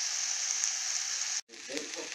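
Onions browning for a chicken casserole give a steady, fairly quiet sizzle in the pan, which breaks off for a moment and then returns with some stirring clatter.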